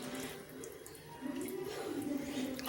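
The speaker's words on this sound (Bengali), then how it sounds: "নর্মাল যে ঠান্ডা জল সেটা আমি ঢেলে দিচ্ছি" Cold tap water pours over boiled chowmein noodles in a kitchen, first a light trickle, then a steadier, louder gush in the second half, ending with a sharp clatter.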